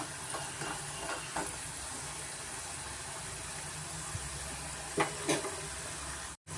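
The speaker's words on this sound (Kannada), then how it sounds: "ನಾನು 2 ಸತಿ ಡೀಪ್ ಫ್ರೈ ಮಾಡ್ತೀನಿ, ಅವಾಗ ಇನ್ನೂ ನಮಗೆ ಕ್ರಿಸ್ಪಿ ಬರುತ್ತೆ" Cassava (tapioca) fries deep frying in oil over a high flame, a steady dense sizzle throughout with a few sharper crackles and bubbling pops near the end.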